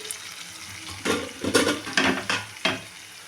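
Tomatoes frying and being stirred in a pan for a Bengali fish curry, with a soft sizzle underneath several distinct scraping, clattering stirring strokes in the second half, close and moderately loud.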